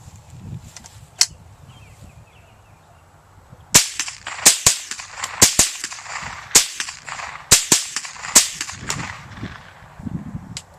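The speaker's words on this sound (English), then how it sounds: "they're both going to shoot off 10 rounds for you real quick" A .22 long rifle and a .22 Beretta pistol fired in turn, a single early shot then a run of sharp, close cracks in quick irregular succession, with quiet talk between shots.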